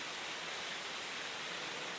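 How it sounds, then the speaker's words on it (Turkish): Steady, full roar of falling water at Ilıca (Uyuzsuyu) waterfall, a modest cascade over a rock face with caves and hollows beneath, constant and unbroken with no voices. "Bildiğimiz klasik şelalelerden."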